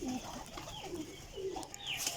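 Pigeons from a loft of twenty hens and five cocks coo in low, rolling phrases, several birds overlapping at close range with a few higher chirps near the end.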